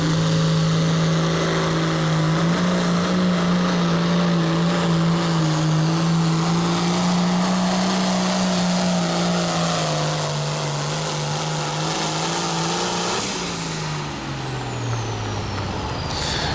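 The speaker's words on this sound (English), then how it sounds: "the only New Holland of the class starts to bring up the turbocharger" A New Holland pulling tractor runs under heavy load at a county fair pull, its turbocharger spooling with a loud, steady roar and a high whine that climbs and then drops near the end.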